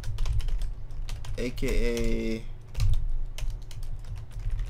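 Keystrokes on a computer keyboard while text is typed into a console window during a programming session, steady clicking throughout with a voice speaking over part of it.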